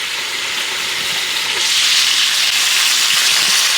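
Chuck roast burgers sizzling steadily in a lid-covered pan, a loud continuous hiss of frying fat that brightens and intensifies partway through.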